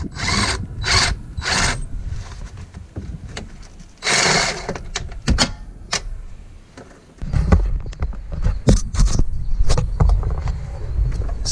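A starter bolt on a 2000 Subaru Outback being worked loose with a power tool during transmission removal, in bursts of whirring and ratcheting with metallic clanks in between, close and fairly loud, with no talking.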